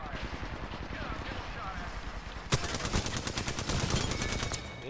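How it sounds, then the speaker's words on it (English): Rapid automatic gunfire in the battle royale game Apex Legends, a dense stream of sharp shots that grows louder and busier midway, with a voice talking over it. "Opening fire."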